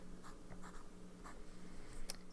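A fine-nib fountain pen writing on paper, faint scratchy strokes in short close bursts over a quiet steady hum, with one sharper tick near the end.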